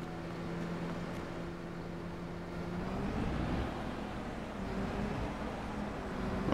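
A tractor engine hums steadily in Farming Simulator 22, a low droning tone that swells slightly partway through, heard faintly and alone with no talking.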